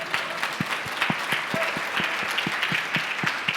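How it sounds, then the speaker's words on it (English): Applause at a church service for the Lord, with steady clapping that rises and holds through the stretch, while a voice speaks faintly underneath and sharp individual claps stand out above the crowd. "give the Lord a clap"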